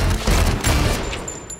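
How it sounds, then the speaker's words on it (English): Rapid burst of gunshots, a dense, booming fusillade that fills the short moment in a film trailer. "Oh, will you stop shooting everything?"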